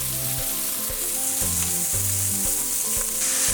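Maple Jimmy Dean sausage frying in a pan, a loud continuous sizzle with periodic stirring and scraping strokes over it.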